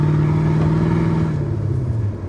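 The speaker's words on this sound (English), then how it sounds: "We'll roll into the throttle a little bit here, get a little bit more exhaust note." A 1993 Ford Mustang GT with the 5.0 V8 and automatic transmission accelerates on the road, its exhaust giving a loud, steady low drone that holds firm before tapering off slightly at the end, with no talking.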